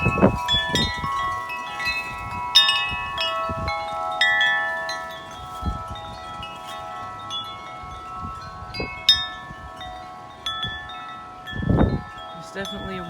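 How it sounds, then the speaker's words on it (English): Strong gusty wind on a stormy day, heard as irregular low buffeting rumbles and gusts hitting the microphone, while a bright, steady tonal chiming or ringing carries on throughout. "It's definitely a windy day today."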